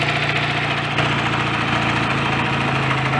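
A BSA A65 motorcycle engine runs steadily at around 2000 RPM, a loud, continuous mechanical drone with a rhythmic low throb and no talk over it.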